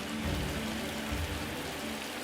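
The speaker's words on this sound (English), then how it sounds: "There's some healthy rain right there." Heavy afternoon rain falling in Cambodia, a steady broadband wash of drops on surfaces that holds constant throughout, with a faint low rumble swelling twice beneath it and no voices.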